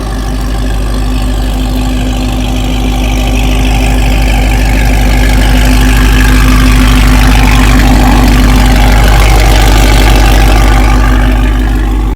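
Supercharged Dodge Hellcat V8, heat-soaked and pulling timing, running steadily with a deep, loud rumbling drone and a faint high whine, continuous for the whole stretch with no talking.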